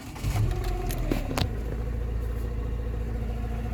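A Rover 45 Impression S3 with CVT gearbox cranks briefly and fires up, then settles into a steady, close mid-pitched idle that runs on evenly to the end.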